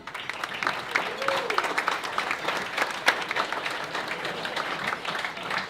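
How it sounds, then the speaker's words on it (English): An audience at a lunch event applauds speaker David Hyland, with steady, full clapping that carries evenly from start to finish and some voices in the mix. "please put your hands together for David Hyland"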